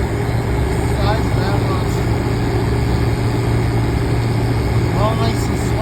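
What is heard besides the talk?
1995 Weatherking air conditioner with Copeland compressor running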